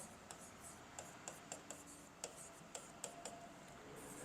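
Short strokes of writing on a board during a vector algebra lesson make a series of faint, irregular taps and scratches at close range, with no talking.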